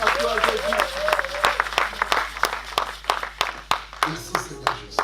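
A church congregation applauds in rhythmic claps that rise and fall, with a voice singing or speaking over the clapping.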